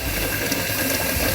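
Tap water runs steadily into a blender jar in a kitchen sink, a continuous close gushing stream with no pauses.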